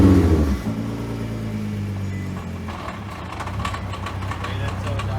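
Nissan GT-R R35 cranking and firing up during a fuel pump install, with a brief loud burst settling into a low steady idle rumble, faint clatter and some talk nearby.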